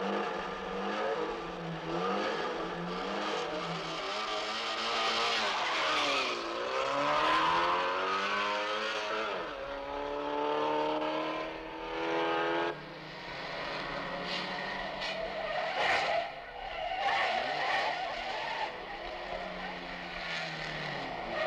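Race cars lap a hippodrome track, engines revving and swelling as they pass with a sweeping pitch shift, then fading, fairly distant and continuous over about twenty seconds.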